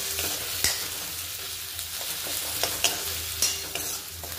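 Potato, carrot and ginger-garlic paste sautéing in hot oil in a pan, a steady soft sizzle broken by several sharp scraping stirs and clinks of a spoon, close and fairly quiet.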